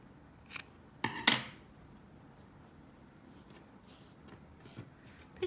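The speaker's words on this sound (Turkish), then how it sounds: "Daha sonra şu fazla ipi kesiyorum." Scissors snip excess yarn on a handmade net bag with tassels. A few quick, close, faint snips sound in a quiet room, followed by light rustling.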